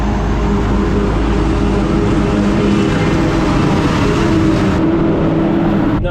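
A camera drone flying overhead gives a steady, loud motor buzz that drones continuously, a constant whirring hum with no pauses.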